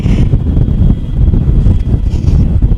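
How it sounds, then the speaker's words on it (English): Sandstorm wind blows across the Moroccan desert in the heat of the day, a loud close roar buffeting the microphone in uneven gusts with rumbling low-end surges and no talking. "now it is a sandstorm in the heat of the day"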